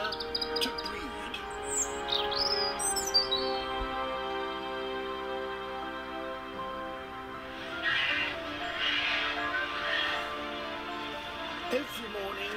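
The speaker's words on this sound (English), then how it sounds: "seabirds congregate in colonies millions strong" Seabird colony calling along the Peruvian coast, a dense, steady wash of chirps and cries with higher squawks rising out of it, while a narrator talks over the top.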